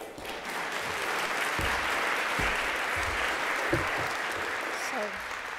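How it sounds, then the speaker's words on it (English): Applause from a conference audience welcoming a presenter, a steady, fairly close wash of clapping lasting several seconds with a few low knocks and thumps mixed in. "Round of applause to welcome Tasha."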